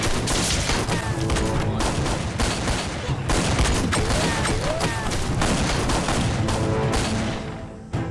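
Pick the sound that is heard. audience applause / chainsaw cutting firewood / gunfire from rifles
gunfire from rifles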